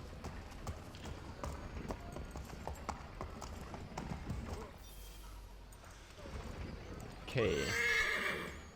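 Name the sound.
horse galloping and neighing in video game Assassin's Creed 3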